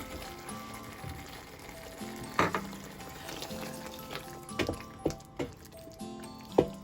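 Cubed tomatoes frying in a pan for kadhai paneer give a steady low sizzle, broken by a few sharp clinks and scrapes of a utensil against the pan.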